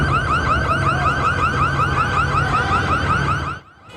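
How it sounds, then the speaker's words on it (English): Alarm blaring as looters break into a jewelry store on a Los Angeles street at night, a loud repeating electronic warble that runs steadily before cutting off abruptly near the end. "You can hear the alarms going off as a crowd of people broke into a jewelry store"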